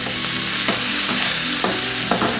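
Onions frying with salt in a hot pan make a loud, steady sizzle throughout, with a few stirring scrapes rising above the crackle.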